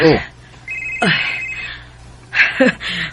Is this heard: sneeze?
no